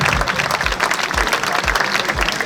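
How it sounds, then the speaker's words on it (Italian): An audience at a Miss Italia regional beauty pageant in Veneto applauds with dense, sustained clapping from a large crowd, loud and continuous for a couple of seconds, with no voice over it. "Fate l'applauso, così mi coprite il foglio che è qua."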